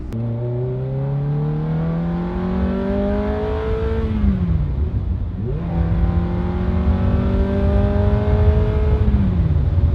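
A Ferrari F430 engine revs up twice in smooth climbing sweeps, dropping back briefly between the pulls. The loud, close mechanical wail stands alone without speech.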